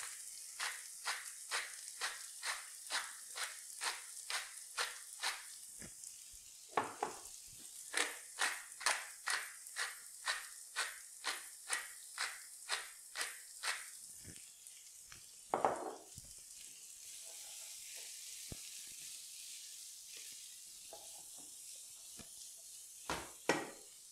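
Garlic and vegetables for shakshuka sauté in a pan over medium heat, giving a steady close sizzle broken by a quick, regular run of stirring strokes that fades into a quieter, even hiss near the end.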